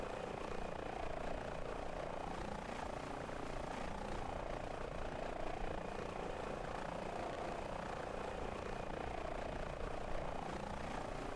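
An H145 helicopter in Microsoft Flight Simulator, a steady rotor and turbine drone that holds constant and evenly loud throughout, with no talk.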